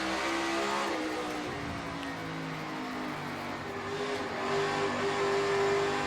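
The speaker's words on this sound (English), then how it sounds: "Blaney right here in the 12 car is faster than you, running right in the middle of the racetrack" Race cars roar around a dirt track during practice for the 2022 Food City Dirt Race, a continuous loud, layered engine drone with shifting revs and no clear individual passes.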